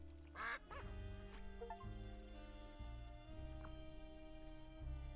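A cartoon duck quacks from the Duck Detective video game, one or two quick nasal quacks near the start over steady background game music.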